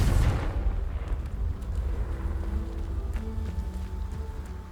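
A Confringo blasting spell explodes in Hogwarts Legacy, a loud low boom at the start that decays into a rumbling tail with faint crackles.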